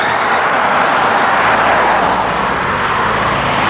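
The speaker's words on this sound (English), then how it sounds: "Cars." Steady roar of cars passing on a nearby road, a loud continuous broadband rush with no gaps and no voices.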